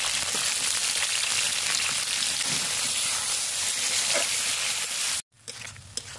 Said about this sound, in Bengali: এখানে 3টে পেঁয়াজ, 3টে টমেটো, একটা রসুন আর একটু আদা কেটে নিয়েছি,